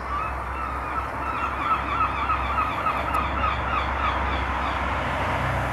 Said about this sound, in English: Noisy gulls.